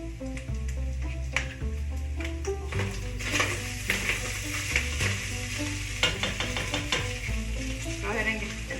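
Garlic and onion sizzle in a pan for sopa de fideo, with occasional utensil scrapes from stirring, all under loud background music.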